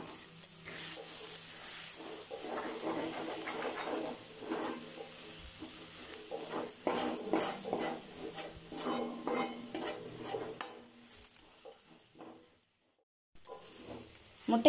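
Eggs stirred and mixed with green beans in a pan over a low flame, steady scraping and clinking of a utensil against metal with a light sizzle, fairly faint, briefly pausing near the end.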